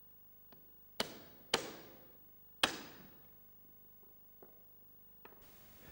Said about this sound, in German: Werden zwei Elemente mit Hammer und Schlagholz zusammengefügt